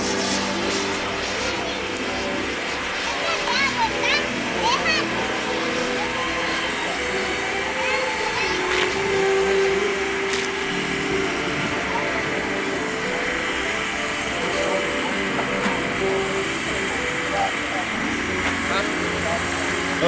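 A remote control F16 jet makes a low pass with its landing gear down at a warbirds airfield event, a steady high engine whine, fairly loud and constant, with a voice commentating over it.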